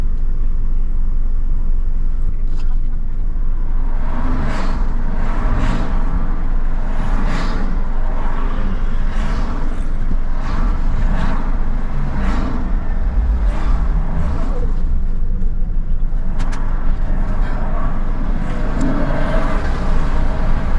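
Cars drive across the Woolwich car ferry on the River Thames in London, with loud, steady vehicle rumble and engine noise that swells in repeated surges as each car passes close by, continuous throughout with no talk.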